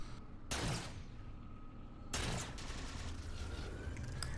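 Gunfire from turrets in the Halo 4 video game, with two loud bursts of rapid shots, one near the start and one midway, and a sustained rattling barrage continuing between and after them.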